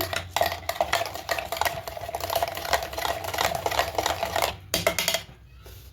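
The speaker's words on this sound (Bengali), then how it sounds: "সব কিছু খুব ভালো করে মিক্স করে নেব।" Spinach puri dough ingredients with salt and black pepper powder being mixed in a bowl, a busy, continuous scraping and stirring clatter close by, then a short pause near the end.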